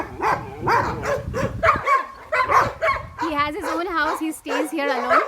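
A purebred Belgian Malinois barks repeatedly and loudly at close range, a rapid series of sharp barks mixed with higher yips and whines, with a person talking at times.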